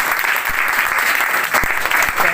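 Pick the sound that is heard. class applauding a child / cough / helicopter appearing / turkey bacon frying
class applauding a child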